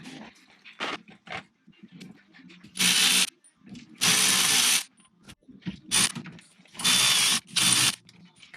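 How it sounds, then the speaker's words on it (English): A ratchet wrench works loose the rear sway bar fasteners on a Porsche 997 Turbo, with repeated fast clicking bursts between quieter handling noises and light clanks of tools close by. "So I'm going to start by removing the sway bar, which is relatively easy because it's very accessible."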